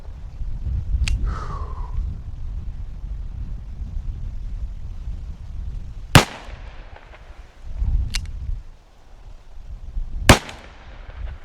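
Revolver shots from a Smith & Wesson 586 L-Comp ring out at an outdoor range, four sharp cracks spaced a few seconds apart over low rumbling background noise, with a faint ricochet-like whine after the first.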